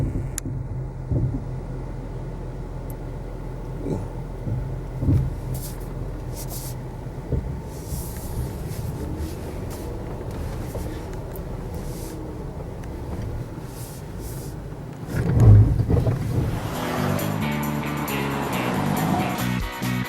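A Jeep crawls off-road in 4-low, its engine giving a low steady rumble under creaks and knocks from the trail, then swelling louder near the end.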